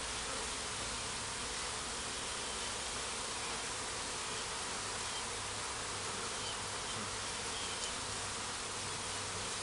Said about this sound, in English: Bees are already starting to flock in here.